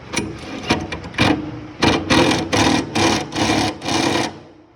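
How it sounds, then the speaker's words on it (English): An impact driver tightens a C7 bulb laying bracket onto a T-nut, firing in a series of bursts: several short taps, then five longer rattling runs with brief pauses between them, loud and close. "We use an impact."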